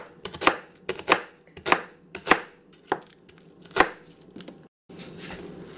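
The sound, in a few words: chopping onions into thick slices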